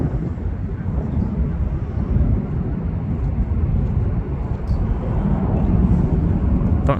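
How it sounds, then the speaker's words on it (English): An airliner landing at Manchester Airport: a steady, broad, distant roar with wind buffeting that holds at an even level throughout, with no voices. "I want to wait for the next plane to come in."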